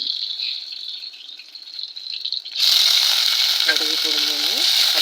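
Mustard seeds and fenugreek spluttering in hot oil in a kadai for a fish curry, a faint hiss that abruptly bursts into loud, continuous crackling sizzle halfway through, close by.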